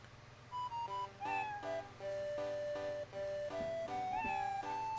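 Cartoonish cat meows from the video game 4 Heroes of Light play over a steady looping game soundtrack with sustained melodic tones. The meows are short, repeated chirps mixed into the music, and there is no speech.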